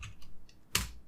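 A few soft keystrokes on a computer keyboard, ending in one sharper, louder clack, close up in a quiet room.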